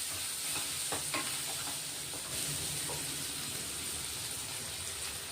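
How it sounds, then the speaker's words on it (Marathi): Bitter gourd (karela) being sautéed in a pan, with a steady sizzle of frying and hiss of steam and a few scraping stirs near the start, all fairly quiet and continuous. "आधी कारले चांगले परतून घेऊ वाफेवर"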